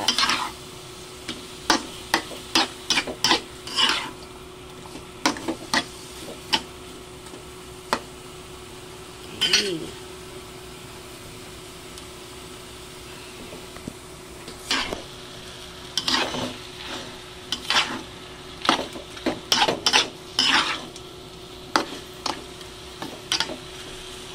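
A spatula stirs pork and chicken afritada in a pan, giving repeated sharp scrapes and taps against the metal over a low continuous sizzle. The strokes come in irregular bursts with pauses, close and clear, with no talking.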